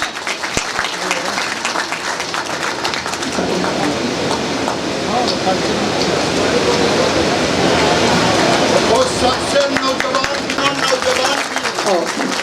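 Sustained applause from a crowd at a stage event during a dairy plant visit in Barauni, dense steady clapping that swells and holds loud throughout, with voices underneath.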